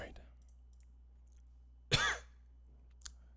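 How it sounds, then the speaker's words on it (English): A single sharp cough bursts out near the mic during a quiet livestream, followed by a faint click, with a low steady hum underneath and no other sound around it. "Cough, cough."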